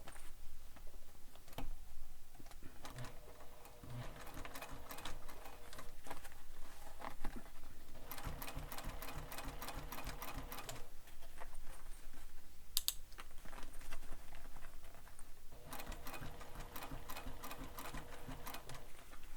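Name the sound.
sewing machine top stitching a sling pack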